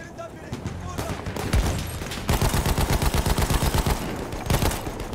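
Rapid automatic fire from an MG15 machine gun in Battlefield 1, bursts of evenly spaced sharp shots with a longer sustained stretch midway, loud and close amid battlefield noise.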